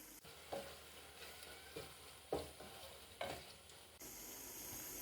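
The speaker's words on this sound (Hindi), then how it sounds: "अब हम 2 से 3 मिनट भून लेंगे।" Ground tomato puree fries in a pan with a steady close sizzle, broken by a few louder scraping stirs at regular intervals, no talking.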